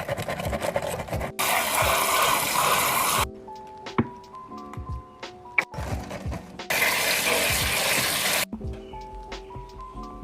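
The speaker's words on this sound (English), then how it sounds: "I'm gonna set this in the sink and wash it." Tap water runs into a sink while a silicone Poppet fidget toy is washed, two bursts of rushing flow separated by squishy handling, clatters and small knocks.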